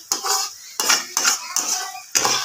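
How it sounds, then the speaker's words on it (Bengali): Momo being stirred and fried in a pan at home, with a metal utensil scraping and clanking against the pan in several distinct strokes, close and clear with a soft sizzle between. "এরা নাড়বো, নেড়ে নেড়ে একটু ভাজা ভাজা হবে"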